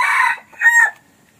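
A rooster crows twice, each call loud and close with a short pause between, then fading away; no voices.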